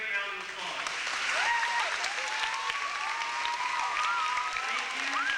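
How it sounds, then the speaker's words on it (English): Audience applauding at a 1989 powwow, steady clapping with whistles and voices mixed in throughout. "I think they deserve a great round of applause."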